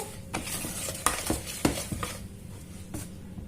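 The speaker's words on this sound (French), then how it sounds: "On remélange le tout." Marble cake batter with cocoa being stirred and folded in a bowl, a few soft scrapes and clinks of the utensil against the bowl, close and fairly quiet, with no talking.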